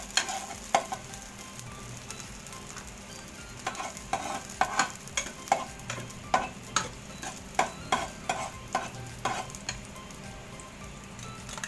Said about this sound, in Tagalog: So, sautein muna natin yung garlic onion.